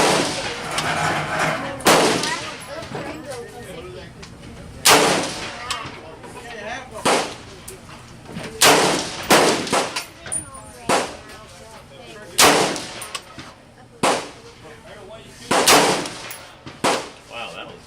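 A Savage MSR-15 Recon rifle fires about a dozen loud, sharp shots at a target, spaced irregularly with some close pairs, while someone talks quietly between them.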